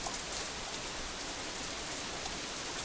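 Steady rain falls in the visual novel Katawa Shoujo, a soft, even hiss of drops on surfaces with no voices over it.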